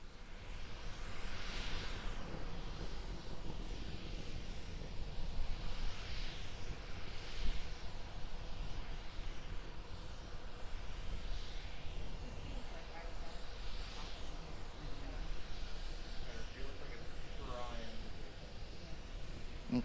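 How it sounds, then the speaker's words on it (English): Single Raptor rocket engine of Starship SN10 powering the vehicle in a high-altitude flight test, heard as a steady, broad roar with wind-like rumble throughout, fairly distant and muffled. "We're still being powered by the single Raptor engine."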